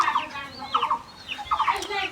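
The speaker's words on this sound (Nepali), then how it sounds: "यहाँ चल्ला छपेको छ।" Small chicks chirp in short, high, repeated bursts, fairly close and moderately loud, outdoors on a sunny day, with a few separate call clusters spread across the moment.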